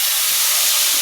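Water poured into a hot pan of cooked vegetables for a potato and mustard hilsa curry bursts into a loud, steady, close sizzling hiss that fills the whole moment.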